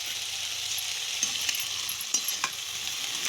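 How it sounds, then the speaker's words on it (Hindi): A ladle stirring chopped vegetables for a Chhattisgarhi curry in hot oil with tempering spices, a soft continuous sizzle broken by a few light scrapes and clinks of the ladle against the pot. "सब्जी ला अच्छे से मैं करछुल में चला ले हूँ सब कटी ताकि तेल और फोरन अच्छा से भून जाए"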